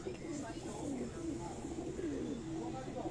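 Pigeons coo from a rooftop in Kasur in a repeated, rolling rhythm at moderate distance, with steady outdoor background noise underneath.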